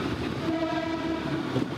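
A passing train rumbles steadily close by while someone races it on the way to Virar, with a continuous rolling roar and faint horn-like tones under it, no voices.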